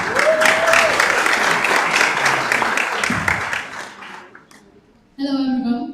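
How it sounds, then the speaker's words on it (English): Audience applauds loudly and steadily for several seconds at a general assembly council meeting as a speaker comes on stage, fading away before a voice begins talking. "Applause, yeah, please, give her."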